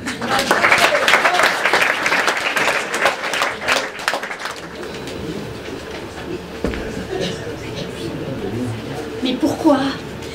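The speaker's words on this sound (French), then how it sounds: "on peut vraiment les applaudir" Audience applause at a community association stage show, loud clapping for about four seconds that thins and fades, followed by quieter room sound and people talking.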